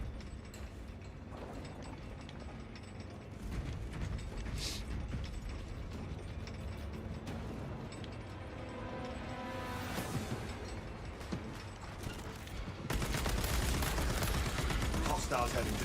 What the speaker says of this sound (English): Cycling cartridges. Munitions rig. Servo gun is fully operational.